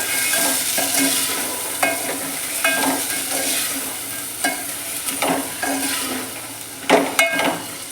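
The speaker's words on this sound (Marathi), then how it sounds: "जेवढे घालणार आहोत छान असं परतून घेऊया" Black ghevada beans sautéed and stirred in a pan for a Satara-style aamti, giving a loud, close, continuous sizzle broken by repeated scraping strokes of the spoon, with no talking.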